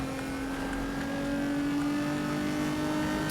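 A car races at speed in Need for Speed: Most Wanted (2012), a steady, droning engine note with a whining tone that swells slightly and holds without letting up.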